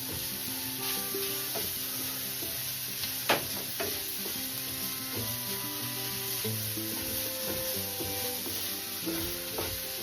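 Food sizzles steadily as it cooks down in a pan, with a continuous close hiss, occasional utensil clinks and a sharp tap near the middle.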